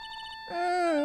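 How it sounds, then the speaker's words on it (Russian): Mobile phone ringing in the Phoenix Wright: Justice for All video game, a short repeating electronic chirp followed by a louder, sustained synthesized ringtone melody. "Неожиданно телефон зазвонил."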